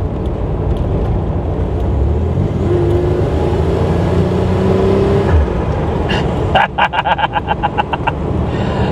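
A 1987 Buick Grand National with its turbocharged V6 accelerates hard, a steady rising engine drone heard from inside, then a burst of rapid clicking and rattling near the end.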